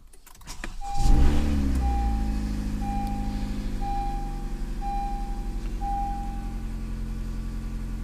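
A 2015 Honda CR-V engine cranks, catches and settles into a steady low idle, while a dashboard chime beeps at regular intervals; ABS and brake warnings are showing.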